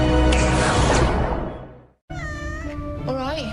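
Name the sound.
cat meowing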